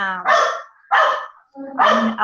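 A dog barks three times close by, each bark loud and sharp with short gaps between, heard alone without talk.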